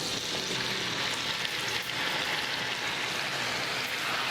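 Apples hitting melted butter in a skillet set up a loud, dense, steady sizzle that stays close and continuous throughout, with no voices.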